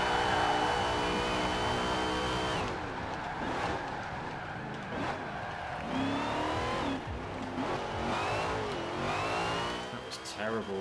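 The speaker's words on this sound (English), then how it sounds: "Changing gears, braking, accelerating, braking again." A Daytona race car in the K74 Rivals racing game revs hard, drops pitch at a gear change, brakes and accelerates again, its engine whine rising and falling with brief tyre squeal.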